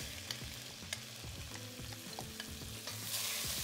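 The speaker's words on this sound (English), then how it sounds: "saute them just for a minute so that they soften up" Onions sautéing and being stirred in a Le Creuset Dutch oven, a steady close sizzle broken by repeated utensil scrapes and clicks against the enameled cast iron, with the frying growing slightly brighter near the end.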